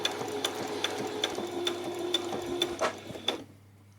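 A sewing machine runs steadily over lace stitching on a child's peasant top, a close mechanical whir punctuated by regular rhythmic clicks, then stops near the end.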